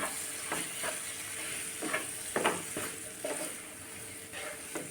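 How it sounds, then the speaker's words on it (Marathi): Curd and chillies are mixed together in a bowl. Quiet, irregular scraping and squelching strokes repeat close by against a low background hiss, with no talking. "आता व्यवस्थित आपल्याला मिक्स करून घ्यायचं आहे छान असं मिक्स करून घेऊ आपण"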